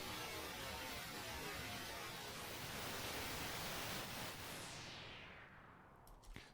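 An extremely time-stretched riser effect forms a dense, steady wash of noisy texture that holds for several seconds, then thins as its brightness falls away near the end, heard alone with no voices.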